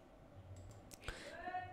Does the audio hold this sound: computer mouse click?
yes